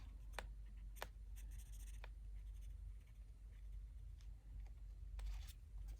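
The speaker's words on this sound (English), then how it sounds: "How am I going to stop this clicking sound? I don't think I can. It's just the spine of the book." Sharp dry clicks from the spine of a book, scattered irregularly over a low steady hum, a handful of distinct ticks close by with no voices.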